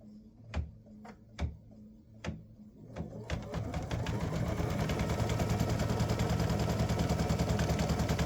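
Embroidery machine stitching a tack-down line on an in-the-hoop mug rug side panel: a few isolated needle thumps, then a steady, rapid, continuous mechanical stitching rhythm building close and loud.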